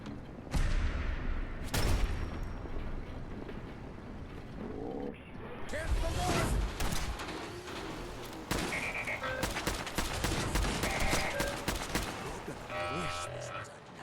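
Gunfire in the video game Fallout 4, with bursts of shots fired into woodland during a fight, loud and repeated over several seconds among other game sounds.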